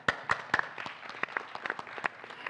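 Applause from an audience at a venture capital panel event: sparse, separate claps come through quietly, a thin smattering rather than a full ovation.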